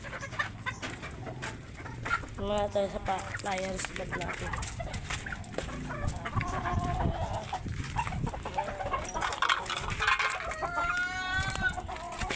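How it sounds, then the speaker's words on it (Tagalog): Farm chickens cluck and call steadily near the microphone while waiting for feed, with a rooster's crow, as someone talks over the flock. "Ayan, nag-aabang na rin yung mga manok dito."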